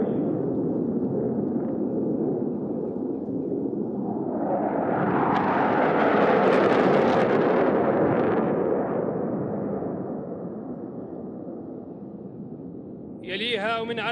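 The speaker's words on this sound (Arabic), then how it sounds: "تشكيل ثنائي من طائرات التورنيدو الهجومية" Pair of Tornado attack jets flying past a formation flypast over a royal inauguration ceremony for new F-15SA aircraft, a broad roar swelling to a loud peak overhead then fading away.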